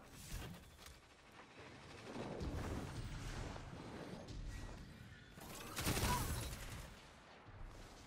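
Likely Suspect fusion rifle firing rapidly in a shooter video game, a dense rolling barrage of muffled booming shots that swells and fades over several seconds, fairly quiet and continuous.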